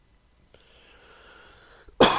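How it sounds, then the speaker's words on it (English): A single cough bursts out loudly near the end after a couple of seconds of faint room hiss, coming from someone close to the microphone. "I'm going to have to cough a lot"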